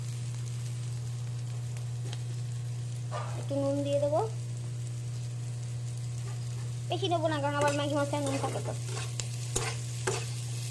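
Onion, carrot, capsicum and beans fry in a pan for a home lunch, giving a soft steady sizzle over a constant low hum, while a person talks at intervals.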